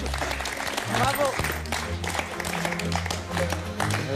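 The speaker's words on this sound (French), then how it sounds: "on peut applaudir Tania." A studio audience claps for a contestant on a French cooking competition show, steady applause mixed with background music and some voices, moderately loud throughout.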